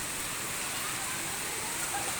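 Heavy rain pours down outdoors, a dense, even hiss of falling water that stays constant and fairly faint throughout the short stretch.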